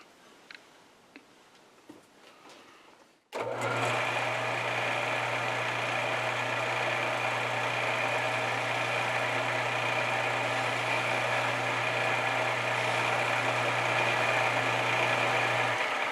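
A metal lathe cuts a chamfer on a rear spindle spider, starting after a few seconds of quiet with a steady motor hum, low drone and bright cutting hiss that runs evenly and close to the end.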